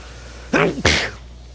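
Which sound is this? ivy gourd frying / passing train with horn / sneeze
sneeze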